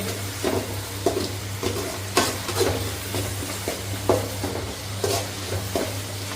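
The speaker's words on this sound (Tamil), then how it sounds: "நல்லா வாசமாக இஞ்சி பூண்டு வணங்கிச்சு ஃப்ரெண்ட்ஸ்." Ginger and garlic sizzle in a pan while a utensil stirs and scrapes at an irregular pace over a steady low hum.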